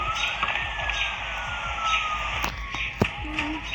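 A police car siren in a video game wails continuously, a steady electronic tone sliding slowly down in pitch over engine rumble, with a couple of sharp clicks near the end.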